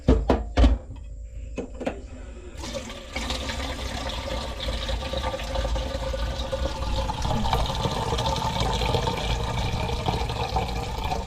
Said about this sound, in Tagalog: tapos sabayan na rin natin ng mainit na tubig